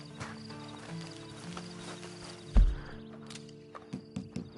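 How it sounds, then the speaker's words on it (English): Horse hooves in the video game Red Dead Online clip-clop on a hard surface in a short burst after a heavy thump, with faint background noise throughout. "Then you better get on this horse."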